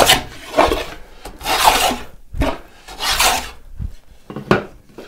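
A scrub plane shaves a wooden box bottom in a series of rasping strokes, about six of them in an uneven rhythm, each a close, loud scraping burst separated by brief pauses.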